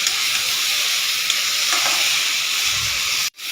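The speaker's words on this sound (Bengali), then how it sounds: "নুন হলুদ দিয়ে ভালো করে সব সবজিগুলো ভেজে নিয়েছি" Drumstick and mixed vegetables frying with salt, turmeric, ginger and cumin give a steady, close sizzling hiss with faint stirring scrapes, cutting off abruptly near the end.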